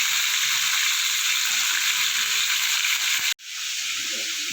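Bitter gourd frying in a pan, a loud, steady sizzling hiss that holds evenly, drops out abruptly for a moment near the end, then returns slightly softer.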